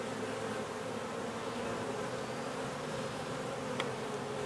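Honey bees buzzing around an opened beehive during a frame inspection, a dense steady hum of many insects close by with no pauses, moderately faint throughout.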